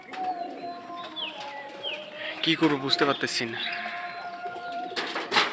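Pigeons on a pigeon farm where the birds are sick and dying coo softly through the background, while a person talks throughout in a distressed voice.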